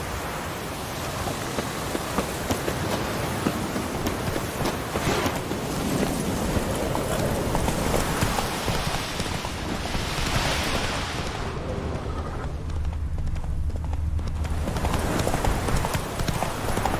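Roach, the horse in The Witcher 3, trots with a steady, rhythmic clip-clop of hooves over a continuous rain-like ambient wash.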